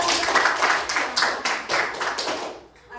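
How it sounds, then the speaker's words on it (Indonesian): A classroom of pupils claps in unison, a brief series of rhythmic group claps that fade out after a few seconds. "itu tepuk tangan"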